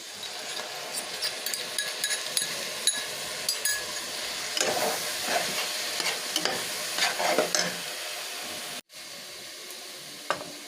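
Chow mein is stir-fried with soy, dark, fish, Maggi and tomato sauces. The pan sizzles and hisses continuously as a utensil scrapes and clatters against it in irregular strokes, with a brief cut near the end and no voices.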